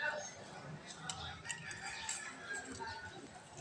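A rooster crows faintly amid outdoor background noise, its call rising and falling over a few seconds.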